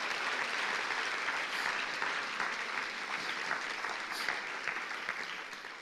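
A congregation at a Spanish-language church service claps loudly and continuously, a dense wash of hands that holds steady and eases slightly near the end, with a little talking underneath.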